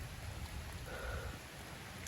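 Rain falls in a steady, even patter that stays faint and continuous throughout, with no voices.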